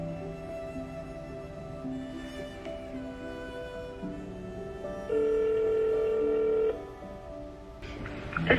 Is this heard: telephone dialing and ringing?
yes